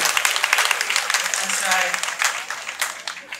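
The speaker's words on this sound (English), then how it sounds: "I urge everybody to clap for the minister" A crowd of Lands Commission staff applauding the Lands Minister indoors, steady dense clapping that holds for several seconds with a voice audible through it.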